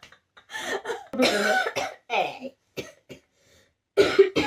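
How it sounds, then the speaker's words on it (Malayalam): A few close, sharp coughs and some throat clearing come in short bursts separated by pauses. "ചുമയാണ്"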